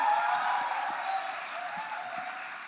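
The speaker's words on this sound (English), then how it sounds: "please, a round of applause" Applause from a crowd at a film trailer launch event, a soft, fairly steady wash of clapping that slowly fades over a few seconds, heard at a distance with no speech.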